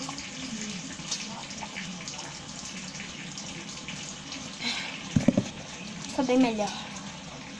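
A kitchen tap runs steadily as water is poured for drinking in the Big Brother Brasil house, with a brief clatter partway through and a person speaking over the flow.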